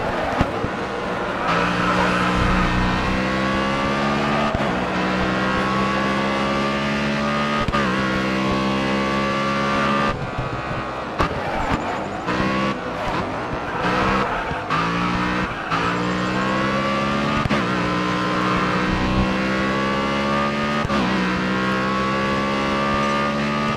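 Race car engines from the Grid Autosport video game roar continuously with rising and falling revs through gear changes, joined by tire squeals and skids, loud and up close with no talking.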